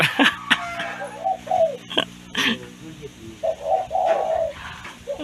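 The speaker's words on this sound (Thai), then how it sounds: "นี่นกต่อดินนะครับ นกของผมนะครับ" A spotted dove used as a decoy bird coos in repeated soft, rounded phrases close by, alternating with someone talking, while a faint steady hum runs underneath.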